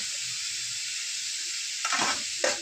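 Crushed garlic sizzles in a pan with a steady hiss, then near the end two louder bursts of frying and stirring flare up briefly; no voices.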